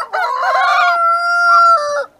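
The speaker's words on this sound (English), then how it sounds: "But you can see the roosters are just chilling." A single rooster on a farm lets out one loud, close crow, rising and then holding a long, drawn-out final note before cutting off.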